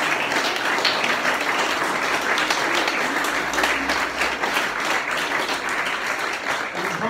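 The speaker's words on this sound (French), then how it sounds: "on peut les applaudir déjà" A church congregation claps together in sustained, dense applause that fills the room steadily for several seconds before tapering slightly at the end.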